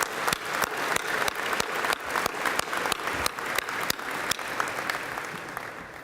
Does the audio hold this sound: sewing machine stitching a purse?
no